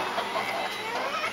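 A flock of chickens clucks softly in a yard, a faint, continuous murmur of overlapping clucks and chatter at a distance, with no talking.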